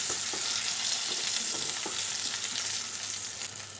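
Turmeric-coated eggplant pieces fry in hot oil and are stirred, giving a steady, close, bright sizzle with a few soft scraping knocks from the spatula throughout.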